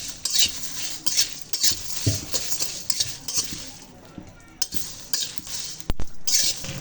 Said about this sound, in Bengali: গোটা মৌরি জিরা ধনিয়া পাঁচফোড়ন আর শুকনা মরিচ চার কেজি জলপাই তার জন্যে এই মশলাগুলো প্রথমে ভেজে নেব